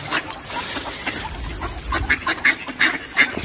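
Ducks on a winter walk quack repeatedly while being fed, a run of nasal calls that grows livelier and more frequent toward the end over faint outdoor background.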